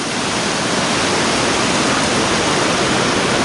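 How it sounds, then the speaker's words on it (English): A waterfall along the Annapurna Base Camp trek in the Nepal Himalaya roars as a loud, steady, unbroken rush of falling water that fills the whole clip, with no voices. "And we see beautiful waterfalls on the way."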